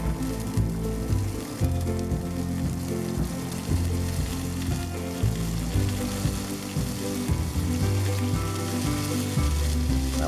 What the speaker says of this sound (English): And then we'll go to a pan with some olive oil. High heat. And we'll throw in our asparagus.